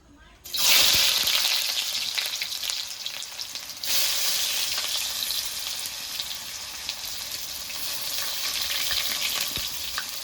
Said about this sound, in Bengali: এবার কেটে রাখা পেঁয়াজগুলো তেলের মধ্যে দিয়ে দেবো